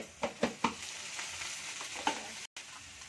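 Curry leaves hit hot oil for cooking rice-flour puris, giving several sharp, crackling sizzle bursts in quick succession near the start and another later, over a steady close frying hiss, with a brief dropout near the end.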